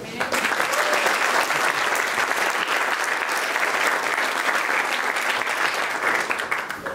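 A church congregation claps in a dense, steady round of applause that stays loud and even for about seven seconds.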